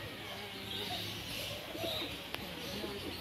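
Pigeons or doves coo softly at a mini zoo in the Philippines, low and steady against constant outdoor background noise, with one brief sharp click partway through.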